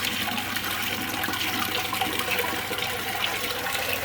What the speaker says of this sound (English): I've just turned the water off, give that a flush.